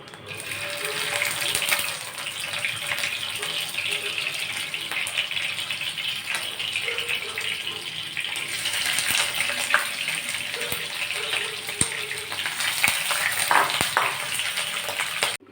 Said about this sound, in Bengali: লবণ আর হলুদ দিয়ে মাখিয়ে রাখা চিংড়ি মাছগুলো হালকাভাবে ভেজে নিব।